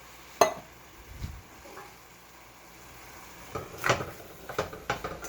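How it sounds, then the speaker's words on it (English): Chickpeas and mushrooms are stirred in a cooking pan, giving sparse scrapes and clinks with a soft sizzle beneath, a sharp knock early on and a quicker run of scraping strokes toward the end. "Stir that in there."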